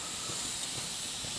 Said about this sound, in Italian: il generatore di vapore sta producendo vapore